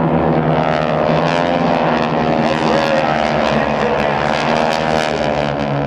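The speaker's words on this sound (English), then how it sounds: "Bob Johansson, Steve Salmers, and Tom Daly all pitch up and get ready to land, extending the landing gear as they line up for a landing" GEICO Skytypers vintage propeller planes flying in formation at a joint services airshow, a loud, steady droning roar of multiple engines held throughout.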